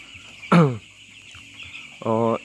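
Broiler chickens in a poultry coop give two distinct clucks, one near the start and one near the end, each loud and close over a quiet background of the house.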